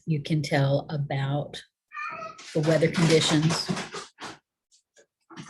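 Cats yowl and meow in a strange, warbling run of cries, fairly close and loud, alternating with a person talking over and between the noises.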